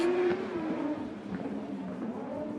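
Speedway motorcycles racing around an arena track, engines droning and revving continuously from a distance with a passing surge, no speech heard.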